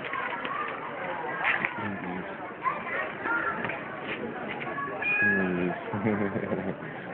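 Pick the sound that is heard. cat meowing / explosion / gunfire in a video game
cat meowing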